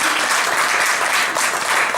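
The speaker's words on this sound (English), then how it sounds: "Round of applause for all of the people who helped." Dense applause from a crowd, steady and enthusiastic, filling the whole moment with continuous clapping.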